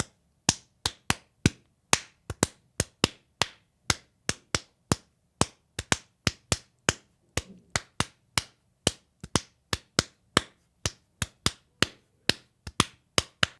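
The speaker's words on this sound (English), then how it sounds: "maybe you're a little annoyed already by my clapping" Hand claps beat out an odd-meter techno pattern, sharp close slaps in a steady, accented sequence running throughout with no talking.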